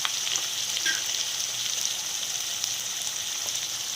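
Onions frying in a pan for a flattened rice dish, a steady close sizzle with fine crackle that runs evenly throughout and stands alone with no voices.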